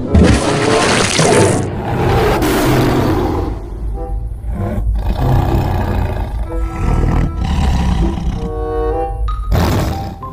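A tiger in the video game Jurassic World Evolution 2 lets out loud, sustained roars and growls that fill the scene without pause, and no one speaks.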